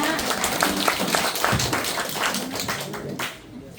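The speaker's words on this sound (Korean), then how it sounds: "저희 차트 강의해주신 고혜진 강사님한테 뜨거운 박수 한번 부탁드립니다" Warm applause from an audience at the end of a chart-trading lecture, with steady close clapping that fades toward the end and some voices murmuring underneath.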